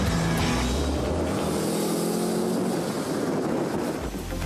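A rare Salzburg Beetle driven hard on a rally course gives a loud, sustained engine drone close by, revving steadily with a rough buzzing tone that dips slightly at the end.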